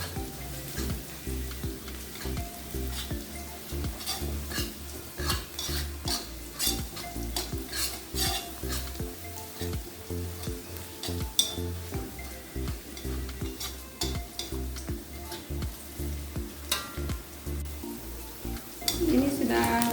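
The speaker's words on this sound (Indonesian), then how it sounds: "Ini bawang sama halnya goreng sampai wangi ya." Garlic and chili frying in a pan of hot oil, a continuous sizzle with rhythmic spatula scrapes and metallic taps as the mixture is stirred, up close and without speech.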